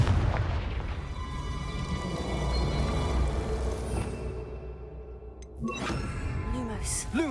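A Confringo blasting spell goes off in Hogwarts Legacy with a sudden thumping burst late on, cutting through a dense, droning musical game soundscape, followed by a few softer thuds.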